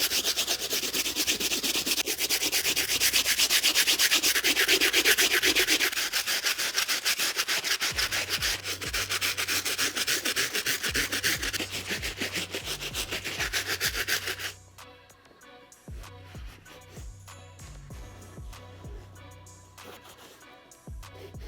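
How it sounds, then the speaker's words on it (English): A stiff bristle brush scrubs the outsole of an Air Jordan 3 Black Cat sneaker with steady, loud rubbing strokes that stop at about 14 seconds, followed by softer intermittent brushing and handling. "get it fully cleaned up with the stiff bristle brush"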